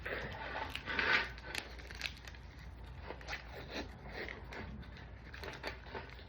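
Crackly, sticky tearing noises come in short bursts and a longer pull as masking tape is unrolled close by, with quiet rustling between.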